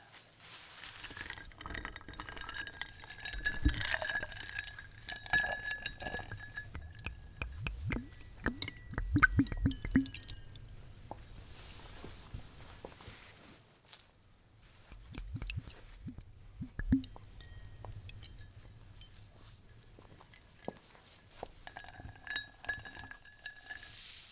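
Glassware clinks softly as rose water is served in a Victorian garden setting, with scattered light taps, pours and small liquid sounds coming in irregular clusters, quiet and close, with no voices.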